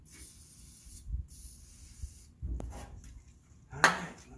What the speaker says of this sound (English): I'm going to hit the bolts with PB Blaster.